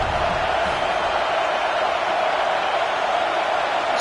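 A large football crowd roars steadily from the stands, a broad and continuous wash of cheering and chanting heard from a distance with no clear breaks.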